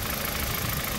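A first-generation facelift Kia Ceed wagon from 2010 with a naturally aspirated 1.6-litre petrol engine and manual gearbox, idling at close range under the hood with a steady, even hum and no talk.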